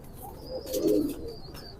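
Pigeons kept in a loft coo in a soft, low, rolling call, one main swelling coo near the microphone against a quiet background.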